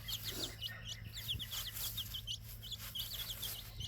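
Backyard chickens and young chicks peep and cluck in rapid, repeated high calls over a steady low hum, close and continuous.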